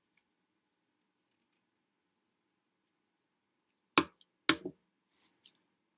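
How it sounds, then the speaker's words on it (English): Scissors snipping off excess glued material around the edge of a small handmade lid, two or three sharp close cuts in quick succession after a long quiet stretch, with a few faint clicks. "I'm just going to go ahead and go around and kind of cut off the excess so it's not as long"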